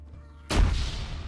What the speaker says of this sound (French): Voilà, vous voyez, ça c'est un explosif. Alors là, il faut que je m'écarte. Et ça va exploser.